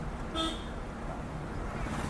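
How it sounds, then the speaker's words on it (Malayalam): A single short car horn toot sounds early on, brief and moderately loud over a steady hum of road and engine noise. "ഹോണൊക്കെ അടിച്ചു വേണം പോകാൻ ആവശ്യത്തിന്"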